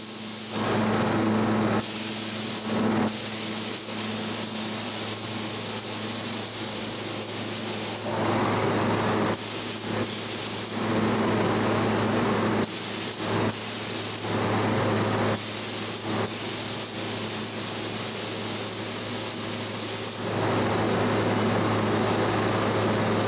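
A spray gun lays primer onto cabinet doors in a run of loud, steady hissing bursts separated by short pauses, with a constant hum from a compressor or fan underneath.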